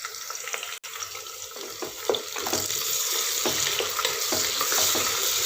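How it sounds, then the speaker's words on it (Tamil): Onion with ginger garlic paste sautéing in a pan for brinjal biryani, heard as a steady, close sizzle with occasional scraping stirs and a sharp click early on. "வெங்காயம் இஞ்சி பூண்டு பேஸ்ட் எல்லாம் நல்லா வதங்கி வரட்டும்."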